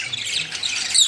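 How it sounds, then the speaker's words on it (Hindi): A cockatiel gives a short, harsh squawk close by at a bird market, a raspy high-pitched call lasting about a second. "काकाटेल है।"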